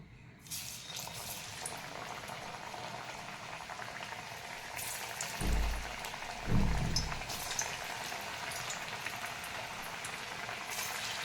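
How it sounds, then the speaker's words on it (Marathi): Aluvadi, colocasia leaf rolls, fry in hot oil in a wok with a steady loud sizzle, briefly surging twice as pieces go in, no talk. "कढईमध्ये मी तेल गरम करण्यासाठी ठेवलेलं आहे, त्यामध्ये आता आपण वडी तळून घेऊ।"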